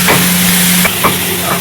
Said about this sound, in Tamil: ஆயில் ஊற்றி நல்லா வதக்குறாரு.